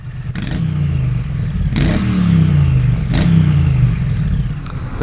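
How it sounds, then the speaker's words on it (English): A KTM 790 Adventure R motorcycle engine revs hard several times, each blip rising and falling in pitch over a steady idle, loud and close with no talking. "I'm out today again on the KTM 790 Adventure R"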